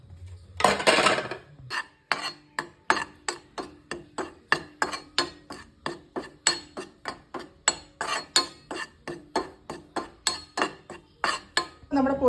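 Spice powder roasts in a metal pot for a curry while a spoon stirs it with a regular run of sharp, close clinks and scrapes, after a brief louder rattle at the start.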